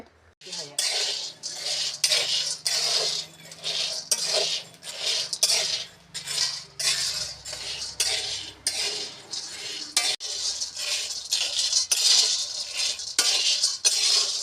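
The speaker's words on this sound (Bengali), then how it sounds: "একে একে সবজি কাটা হচ্ছে" Vegetables for a Chaitra Sankranti pachan are cut one after another, a rhythmic run of sharp, close knife strikes and clinks against a board or dish, repeating about twice a second throughout.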